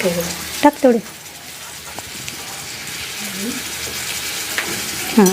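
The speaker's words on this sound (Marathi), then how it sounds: "जिरं तडकल्यानंतर ना आपण त्याच्यात आला लसूण पेस्ट टाकूया" Ginger garlic paste frying with tempered cumin in a pan, a soft steady sizzle broken by a few clattering stirs of a spoon, with a voice speaking briefly at moments.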